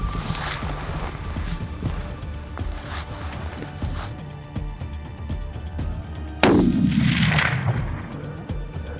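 A hunting rifle fires once at a chamois in the Pyrenees mountains, a single sharp, loud crack with a rolling echo, following several seconds of quiet outdoor ambience.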